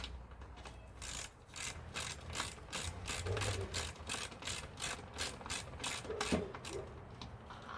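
A socket wrench ratchet turns hardware on a Husqvarna HU800AWD mower, a fast, even run of close clicking pawl strokes in quick bursts, with no talking.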